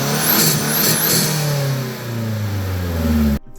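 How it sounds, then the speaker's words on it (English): Turbocharged car engine with its stock blow-off valve, revved hard twice in quick bursts with a whistling spool, then a sustained rev that dips and climbs before cutting off abruptly. "let's rev it stock and see what it sounds like."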